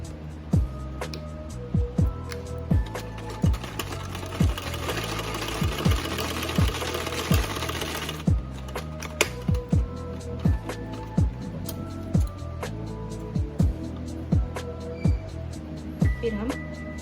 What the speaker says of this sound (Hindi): पहले ये सिलाई हम इस तरह से लगाएंगे